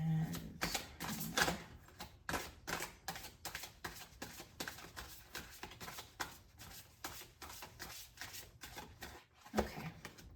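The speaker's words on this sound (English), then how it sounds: "we're going to do one more shuffle after this" Oracle cards being shuffled in repeated quick riffles and taps, a steady run of soft crisp flutters close by, fairly quiet throughout.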